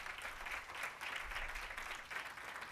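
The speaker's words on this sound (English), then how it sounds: "let's give him another round of applause" Audience applause at a Memphis event on housing, a dense steady wash of clapping from a crowd, moderately loud and sustained throughout.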